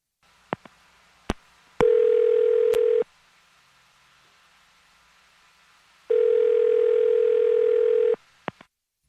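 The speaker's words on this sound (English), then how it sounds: "I'm going to dial this phone number right now." A few sharp clicks on a phone line, then two long steady electronic tones separated by a pause of silence, as a call is placed.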